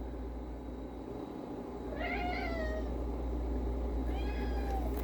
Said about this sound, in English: my cat's gonna keep crying if I stay in here